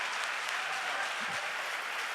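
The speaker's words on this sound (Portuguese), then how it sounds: "Vamos dar uma salva de palmas a Jesus?" A church congregation claps in steady applause, a dense even patter that holds at a moderate level from start to finish without any voices.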